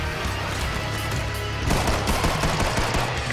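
Rapid, dense gunfire from the video game Killing Floor 2 fills the scene as a continuous burst of shots, loud and close with no talking.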